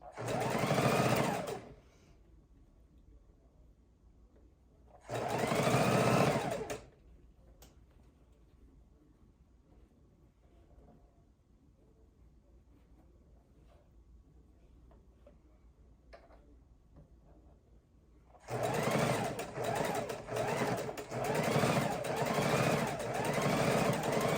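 Sewing machine stitching quarter-inch seams on a fabric pillow, running in two short whirring bursts with a quiet pause between, then a longer steady run to the end.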